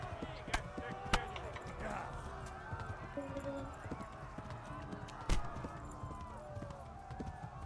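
Horse hooves clip-clopping in the medieval game Kingdom Come: Deliverance, a few sharp hoof knocks over quieter ambient game sound, with someone talking over them now and then.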